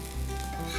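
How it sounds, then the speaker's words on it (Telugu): Steady close sizzle of a ragi dosa frying on a hot pan, a soft continuous crackle with no voices. "రెండు వైపులా దోరగా కాల్చుకొని ప్లేట్లోకి తీసేద్దాం."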